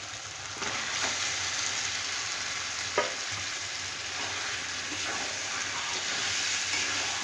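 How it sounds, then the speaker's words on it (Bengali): Chicken pieces fry in spice masala in a pan, giving off a loud, steady sizzle that carries through the clip, with occasional scrapes and one sharp knock of a stirring utensil. "মশলার সাথে মাংসের সাথে একসঙ্গে ভালো করে কষিয়ে নেব"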